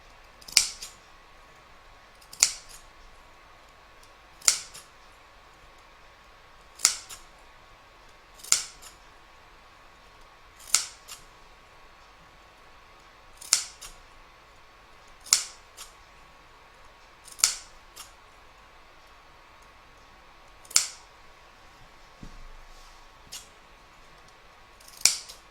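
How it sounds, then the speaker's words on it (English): Scissors snipping the fabric corners of an in-the-hoop crazy patch evening bag, about a dozen sharp, isolated clips spaced a couple of seconds apart in a quiet room, close and crisp. "now going to clip the corners so that when we turn this, they all sit nice and neatly"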